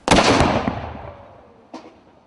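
A historic cannon fired by a gun crew at an outdoor heritage fair beside a mill: one loud, sharp boom with a long fading rumble, then a fainter second crack or echo about a second and a half later.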